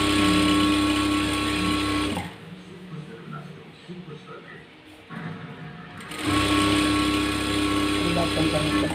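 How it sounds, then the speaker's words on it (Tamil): A sewing machine stitches a saree edge in two loud, fast whirring bursts of about two seconds each, separated by a quieter pause with some talking. "ஓப்பன் பண்ணி ஸ்ட்ரைட்டாக அடிச்சுக்கோங்க."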